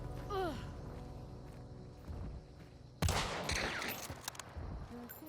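Gunfire in the video game Hunt: Showdown: a sharp, loud shot breaks in around midway over a steady game backdrop, followed by scattered clatter and rustling movement.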